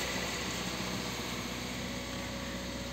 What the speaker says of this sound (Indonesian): RPM ditahan pada 2000